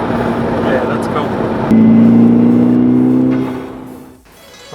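A Golf GTI MK6 on Revo stage 1 tune with a budget intake revs up in one rising pull, then drops off as the wastegate chatters and fades to near quiet before a fresh burst, all close and loud.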